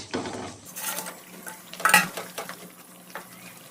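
Pieces of fried fish going into a pan of boiling spicy curry, with a few clattering knocks and scrapes of utensils against the pan over a faint bubbling simmer.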